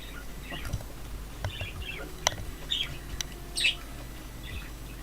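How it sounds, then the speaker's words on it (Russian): Several birds chirp and call outdoors in short scattered bursts, with a sharper squawk near the end that fits an indoor parrot, all moderately loud over a low steady background hum. "Еще и птицы с улицы начали орать."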